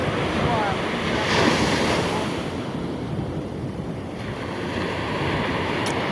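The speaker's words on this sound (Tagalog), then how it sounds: "Lalakas ng alon" Strong ocean waves crash and roll continuously, with heavy wind buffeting the microphone and faint voices in the background.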